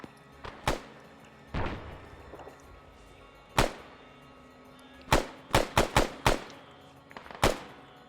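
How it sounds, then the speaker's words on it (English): Gunfire in a realism military shooter game: sharp, separate shots spread irregularly across the clip, some isolated and a quick cluster of four or five near the end, fairly loud against a quiet background. "I've just realised I've been shooting at a little dot of a leaf of a tree"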